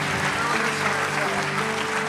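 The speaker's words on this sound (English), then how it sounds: "Give a hand clap to Jesus." Church conference congregation clapping steadily for the full moment, a dense wash of hand claps filling the room with sustained organ or music tones underneath.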